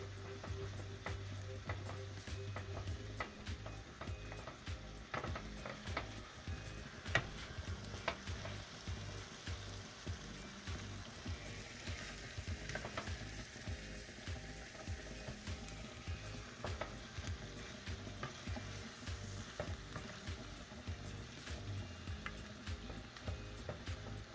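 Casserole ingredients are stirred in a 10 by 15 casserole dish, a soft, steady scraping and mixing with rhythmic low thumps of the utensil, quiet and close with no voices.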